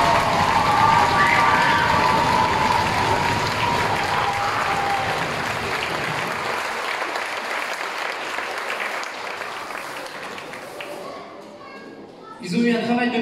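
An audience at a children's theatre show claps loudly and steadily with some cheering, the applause slowly fading, then a voice speaks near the end.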